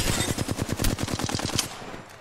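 Rapid automatic gunfire in an Apex Legends match, a fast, loud, evenly spaced burst of shots sustained for about two seconds before cutting off.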